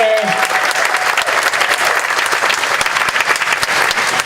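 A crowd at an outdoor Hmong community festival in Wausau applauds the Lieutenant Governor, with dense, loud, sustained clapping and no voices above it.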